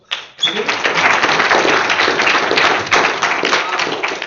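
A tech-talk audience breaks into applause: a dense, steady burst of clapping close by that holds for several seconds before easing slightly toward the end.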